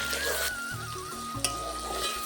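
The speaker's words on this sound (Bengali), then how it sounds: "দিয়ে ভালো করে মশলাটা আমি কষিয়ে নেব" Masala with green chili, chopped capsicum and tomato being sautéed in a pan for chicken curry, a close, continuous sizzle with a few soft stirring scrapes and no talking.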